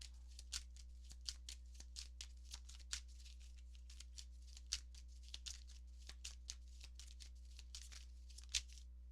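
Oracle cards are shuffled for a reading in a quiet room, making soft, repeated papery riffles and taps in an uneven rhythm over a low steady hum; no one speaks.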